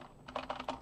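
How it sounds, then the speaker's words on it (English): A short burst of computer keyboard typing, several distinct close key strikes in quick irregular succession, heard alone. "I don't like this keyboard, I need a better keyboard"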